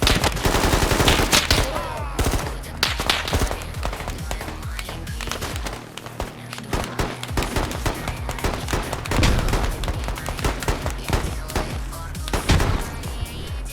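Friendly soldiers open fire in the military shooter Squad: rapid, sustained bursts of rifle and machine-gun shots crackle continuously at close to middle distance, loud and dense, with a brief dip midway before the shooting resumes.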